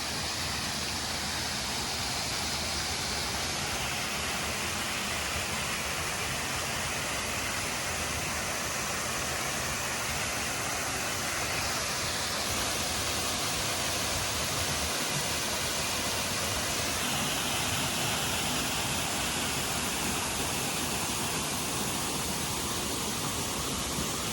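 Steady, dense rush of falling water from a waterfall in Akasaka Yama park, Kashiwazaki, Niigata, a continuous broadband roar heard close by without pause throughout.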